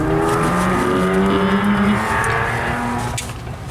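A car engine revs hard in a parents' car, a loud, sustained roar with rising and falling pitch that eases off slightly toward the end.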